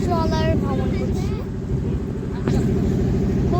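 A trawler boat's engine drones loud and close with a steady low throbbing rumble on a boat trip, while voices chatter and call out over it.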